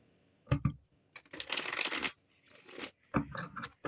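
Playing cards are shuffled up close in quick bursts, crisp riffling and flicking separated by short pauses.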